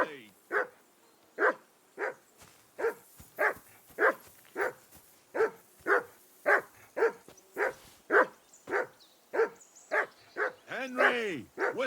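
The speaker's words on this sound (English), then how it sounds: "Whistle at that hut of yours to stop barking." A dog in the video game Kingdom Come Deliverance 2 barks steadily and repeatedly, about twenty sharp barks in rhythmic succession, fairly close, with a whine near the end.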